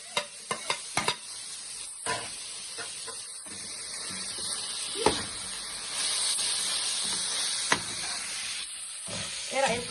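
Liver frying at a street food cart, sizzling steadily while it is stirred with sharp metallic clanks and scrapes against the pan, and voices talk intermittently nearby.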